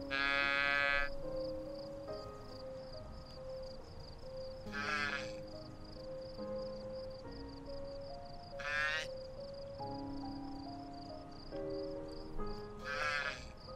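Groffle, a large animal kept in a farm pen in the video game Yonder: The Cloud Catcher Chronicles, gives out several loud, bleating, sheep-like calls in separate bursts over a steady ambient game soundscape with a continuous high tone.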